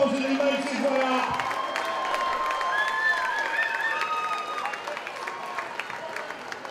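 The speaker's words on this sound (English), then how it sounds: "give him a big round of applause as he makes his way up" Crowd applause and cheering at a boxing event as a fighter walks up, a steady wash of clapping and whistles with an announcer's amplified voice talking over it.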